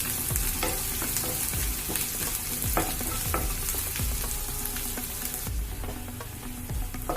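Shallots frying in oil in a pan over medium flame for a Kerala long-bean stir-fry, browning with a steady close sizzle and occasional spoon scrapes throughout, no voices.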